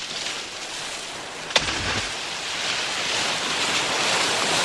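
Rough water churns and surges below a rocky cliff, a steady loud wash of surf and spray with one sharp knock early on, and no voices.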